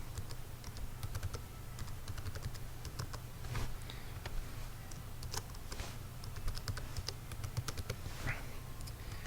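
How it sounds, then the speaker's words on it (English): Continuous clicking of keys being typed on a computer keyboard, fast and irregular, over a steady low background hum. "you'll type in their student name and password just like I'm typing it in"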